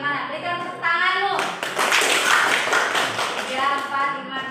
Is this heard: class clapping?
yes